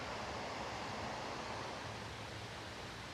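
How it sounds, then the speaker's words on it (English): A waterfall splashes beside a hotel's Cascade Pool, giving a steady, dense rush of falling water that stays even throughout and has no voices over it. "It's a waterfall."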